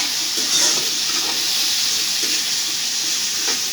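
Meat frying in a pan with salt added, giving a steady bright sizzle with faint stirring scrapes throughout, close and continuous, no voices.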